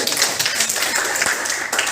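A small group claps together in a dense burst of applause, with no speech over it.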